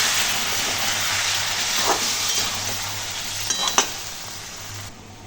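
Water splashes into hot spices frying for a vegetarian aloo dum potato curry, setting off a loud, continuous hissing sizzle nearby, with a few brief stirring clinks before it dies away.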